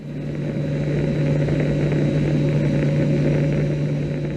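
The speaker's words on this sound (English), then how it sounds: "I'm now aboard a US Navy aircraft." Inside a US Navy aircraft in flight over the South China Sea, a loud, steady engine drone with a strong low hum fills the cabin continuously.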